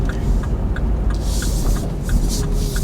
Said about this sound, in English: Big lorry here, but it's turning.